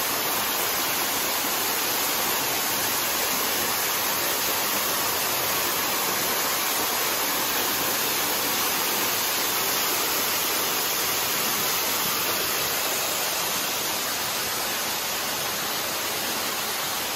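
Waterfall pouring into a small pool beside a marble mine, a steady, dense, loud rushing roar that holds unbroken throughout with no voices.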